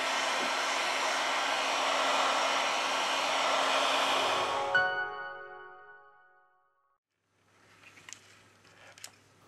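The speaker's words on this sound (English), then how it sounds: "We apply heat to the device to remove the battery cover." A heat gun warms the back cover of a Samsung Galaxy Note 10, blowing as a steady loud rushing hiss that cuts off and winds down, followed by faint clicks and light handling noises.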